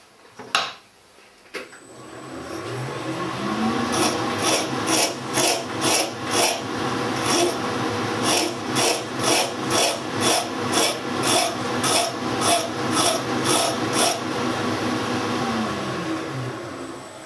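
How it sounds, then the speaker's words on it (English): Metal file chamfering a threaded part spinning in a lathe, a few knocks then a steady run of loud, evenly paced rasping strokes over a continuous machine hum. "I'll just put a chamfer on with a file"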